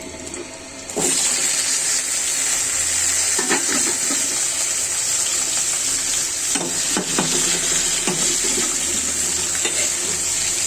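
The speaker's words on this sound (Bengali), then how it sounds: "আর এই যে ভেজিটেবলগুলো কুটে রেখেছি ডালি কচু কাঁকরোল বেগুন ছেড়ে দিচ্ছি" Chopped taro, pointed gourd and eggplant drop into a hot frying pan of oil, setting off a sudden loud sizzle that continues as a dense steady hiss with occasional knocks of stirring.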